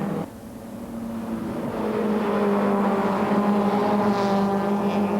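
BMW touring cars racing in the 1995 Spa 24 Hours, a loud engine drone that swells and holds steady with rising and falling revs, heard without commentary.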